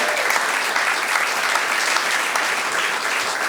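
A live audience at a storytelling event applauds steadily and loudly, a dense wash of many hands clapping that holds at even strength throughout without any voices.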